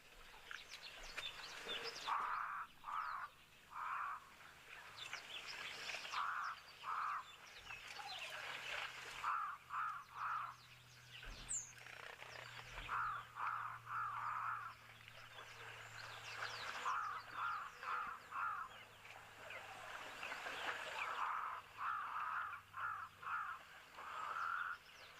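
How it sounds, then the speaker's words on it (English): Loud crow cawing in a wild outdoor setting with kudu, gemsbok and springbok, repeated bursts of harsh calls in rhythmic series spaced across the span, fairly near over a quiet natural background. "The other sound to that very loud crow"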